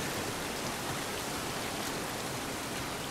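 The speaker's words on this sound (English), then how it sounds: "It's raining." Rain falling in The Last of Us video game, a dense steady hiss of rain on surfaces, constant and fairly quiet, with no voices.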